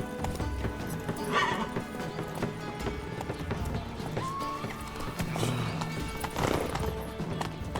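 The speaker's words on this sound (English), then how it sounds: "Run, Roach." A horse gallops with steady clip-clop hoofbeats in the video game The Witcher 3, mixed with music and a brief whinny, while characters speak over it.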